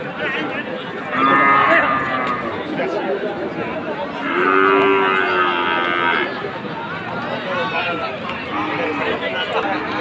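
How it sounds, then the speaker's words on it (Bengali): At a busy cattle market before Eid, a native bull gives two long, loud moos a few seconds apart, close by, with crowd chatter and people talking throughout. "দেশি ষাঁড় গরু"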